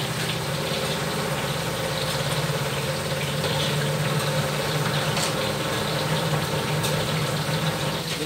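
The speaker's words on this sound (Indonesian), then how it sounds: "Ini suara mesin cuci lagi cuci di sini" A washing machine runs with a steady, continuous mechanical hum and faint watery churning, unbroken throughout with no voices.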